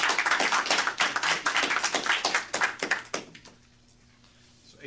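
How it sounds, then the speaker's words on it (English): Applause from a lecture audience in a university room, a dense run of close hand claps for about three seconds that thins out and stops, leaving quiet room tone. "give a round of applause to them"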